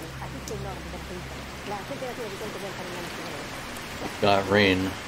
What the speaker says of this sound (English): Got rain.